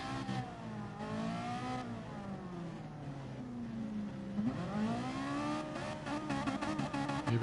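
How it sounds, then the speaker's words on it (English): Race car engines rev together at the start of a GT league round at Interlargos, a layered rising and falling drone of several engines building toward the launch, loud and continuous without talk. "Here we go, revving their engines, and we're about to get underway."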